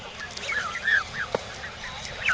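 Geese and goslings call with soft, squeaky peeps and chirps close by, a steady scatter of small calls over faint outdoor background noise.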